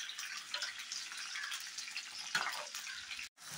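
Green chilies sautéing in a pan, giving a faint, steady hiss of frying with a light clink near the end before a brief cut to silence, heard close and without talk.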